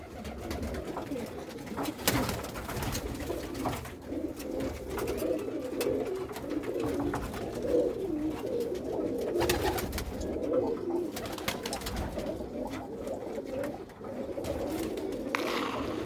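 A flock of pigeons on a house roof keeps up continuous low cooing, overlapping throaty calls layered without pause, with occasional brief clicks and rustles among them.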